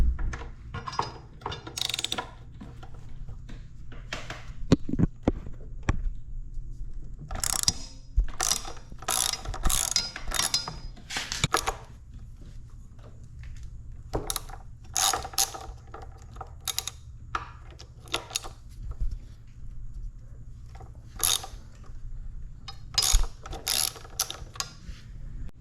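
Ratchet wrench working during removal of the front wheel of a 2005 Kawasaki ZX10R motorcycle, with rapid clicking bursts repeating over a steady low mechanical hum, close and fairly loud.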